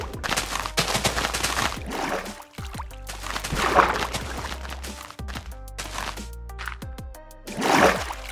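Water rushing and bubbling in a Minecraft bubble column elevator over soul sand, a continuous gurgling wash in repeated surges, with clicking block and game sounds mixed in and no talking.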